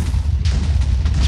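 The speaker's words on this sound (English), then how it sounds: "Explosions." Minecraft explosions in a parkour map rumble as a dense, continuous low boom with several sharp bursts layered in, loud and steady throughout with no voices.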